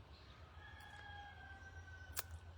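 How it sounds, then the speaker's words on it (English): Rooster and chickens crowing on a farm near a porch, with faint distant drawn-out crows and a brief louder burst near the end over a steady low hum. "The chickens heard me telling them they needed to wake up."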